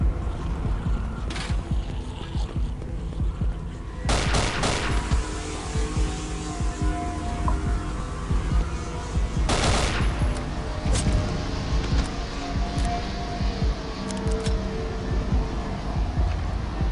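SIG pistol fire in the horror video game Afraid of Monsters: a few sharp gunshot bursts cut through a steady loud droning game ambience.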